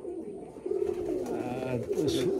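Pigeons at a loft near Baruipur, Kolyanpur, give soft, rolling coos that run steadily through the moment, fairly close and moderately loud, with a voice speaking over them.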